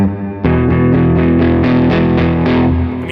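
Epiphone Dave Grohl 339 electric guitar played through a Vox AC30 amp running a little hot on the cool channel, a short burst of driven, repeatedly strummed chords with a crunchy, distorted tone.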